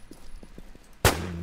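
A gunshot in the zombie survival game Infestation The New Z: soft footsteps and movement, then a single sharp, loud shot with a brief ringing tail, close by.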